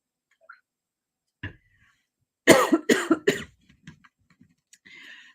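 A person coughs in a quick cluster of several harsh, close coughs, with faint ticking and small clicks before and after in an otherwise quiet room.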